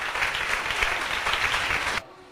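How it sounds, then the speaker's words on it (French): Audience applause at a French-language award ceremony, a dense, even burst of clapping from a crowd that cuts off abruptly into near silence. "Applaudissements."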